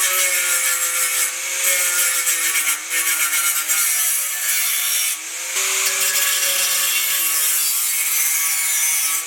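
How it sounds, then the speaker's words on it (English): Continuous abrasive grinding or cutting as corners are trimmed off a metal brake dust shield for a Camaro ZL1 big brake install, a steady harsh whine with slight pitch shifts and brief pauses. "I'm just going to go with the cheaper option, reuse most of this shield, just trim off a little bit of the corners here."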